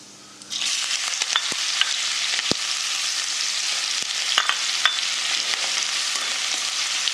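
Onion dropped into plenty of hot oil with cumin and asafoetida for Khandeshi brinjal bharit, bursting into a loud steady hiss of frying after a quiet start, with a few sharp ticks and pops.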